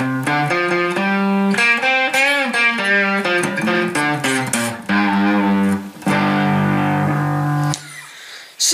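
A distorted electric guitar plays a fast riff from a song's solo, with bent and sustained notes, loud and upfront, ending in a brief pause.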